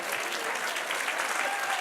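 Steady applause from a church congregation, dense clapping throughout without a break.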